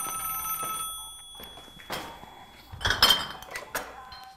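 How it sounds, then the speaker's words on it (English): Telephone ringing indoors in a comedy film-review sketch, tonal ring bursts with clinking and shuffling noises in between. "Is his phone ringing?"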